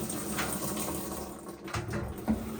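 Water rushes steadily into the drum of a Whirlpool WTW5000DW2 top-load washing machine with a soft, continuous splashing flow, close by and fairly loud.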